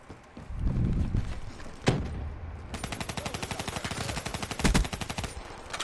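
Rapid automatic gunfire from a first-person shooter video game, with a few sharp single shots early on, then a fast sustained burst rattling on for several seconds, loud and close.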